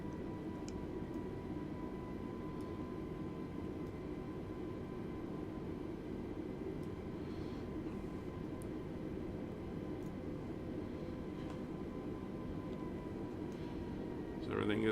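Steady broadband roar of Lufthansa Airbus A320neo engines during a rolling takeoff start from Frankfurt, heard from the cockpit as a constant low rumble with a faint tone, swelling slightly at the very end.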